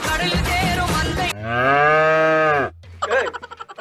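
A cow moos loudly and close by in one long, drawn-out call after a noisy start, followed by a shorter, wavering second call.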